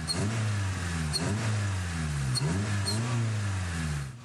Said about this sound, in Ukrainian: Це гуркоче двигун зовсім не надпотужного спортбайка, а моторикші